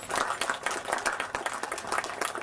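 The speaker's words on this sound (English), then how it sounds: "Round of applause" Crowd applause and clapping for an angler called up at a bream fishing tournament weigh-in at Lake Macquarie, a steady patter of hands held at moderate level across the short stretch.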